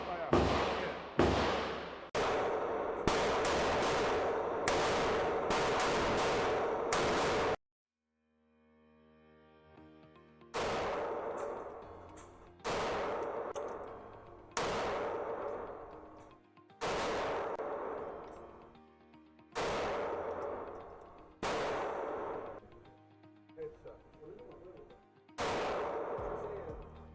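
Heavy guns fire at an outdoor shooting range, a long series of loud, sharp blasts with echoing tails, several rapid bursts, then a brief pause before more widely spaced shots continue.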